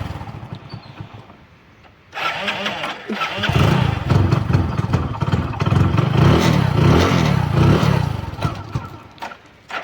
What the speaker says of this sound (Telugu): చలికి బండి కూడా స్టార్ట్ అయితే లేదు.